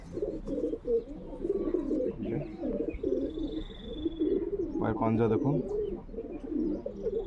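Low, soft pigeon coos murmur continuously in the background while a person speaks nearby.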